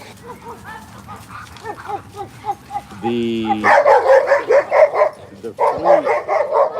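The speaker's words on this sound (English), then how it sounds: "My dogs are on Hamas patrol." Several dogs in a residential neighborhood bark and yip in quick, loud bursts close by, with some whimpering in between, while someone talks over them.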